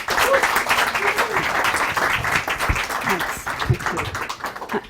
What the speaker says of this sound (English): big round of applause for Ritu